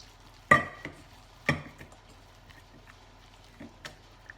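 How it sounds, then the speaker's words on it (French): Cake batter being stirred in a bowl, a few distinct scraping and tapping strokes, the loudest two near the start, then softer, sparse clinks against a quiet background. "je remue pour bien la mélanger à la pâte"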